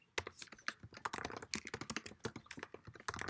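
Rapid typing on a computer keyboard while coding in Swift, a close, dense run of clicky keystrokes with short pauses, no voices.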